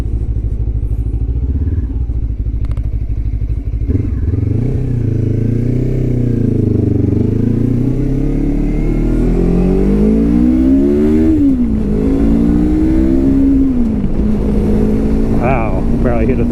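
A Lifan KPT 400 motorcycle engine revs loudly and continuously while being ridden, its throaty drone rising and falling in pitch as the throttle is worked, with the rider talking over it.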